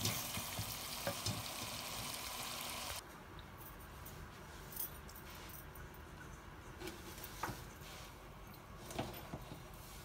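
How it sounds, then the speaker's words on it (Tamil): Chili powder and ground masala powder being stirred into freshly drained cooked rice for Madurai temple-style puliyodharai, a soft continuous sizzle and scraping with occasional clinks, louder at first and then steady. "சில்லி பவுடரும் இந்த அரைச்சி வச்ச மசாலா பவுடரும் கொட்டி சோத்தில் போட்டு கிளற வேண்டும்"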